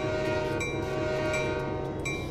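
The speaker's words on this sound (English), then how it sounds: "Pretty darn good horn on it" A train horn sounds in a train simulator game on the Canadian National Oakville Subdivision, a loud steady multi-tone blast held over the rumble of the locomotive.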